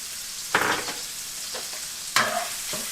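Shrimp and garlic sautéing in a pan for a curry-coconut tagliatelle, a steady close sizzle punctuated by two louder scraping bursts as the pan is stirred, with no talking.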